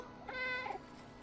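A single cat meow in the video game Stray, a short rising-and-falling call lasting about half a second, clear and close over a quiet game background with no talking.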